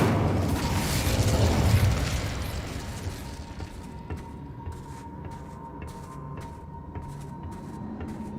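A fiery Incendio spell bursts in the Hogwarts Legacy game, a heavy roaring blast that swells loud for about two seconds, then settles into a crackling rumble with faint clicks.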